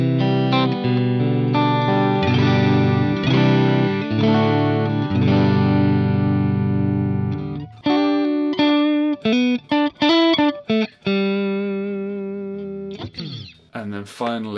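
Electric guitar with middle and bridge pickups engaged, played loud through effects: a sustained strummed chord, then a rhythmic run of choppy, muted stabs and ringing chords.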